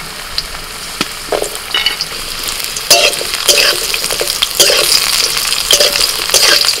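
Potatoes fry in hot oil tempered with dry chilli, bay leaf and cumin, making a loud, close sizzle that swells as they go in, with bursts of stirring and spatter throughout.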